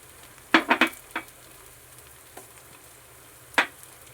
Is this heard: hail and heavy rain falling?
no